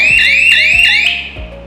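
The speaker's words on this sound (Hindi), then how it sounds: "अभी जब मैं मैग्नेट निकालूंगा तो ये एक अलार्म बजेगा।" A magnet-triggered alarm on a rope fence built to detect elephant intrusion sounds close and loud, giving a shrill rising electronic wail that repeats about four times before cutting off.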